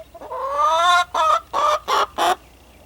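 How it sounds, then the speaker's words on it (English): Chickens in a chicken run cluck close by: one drawn-out call is followed by four short, evenly spaced clucks in otherwise quiet surroundings. "Don't spoil your chickens."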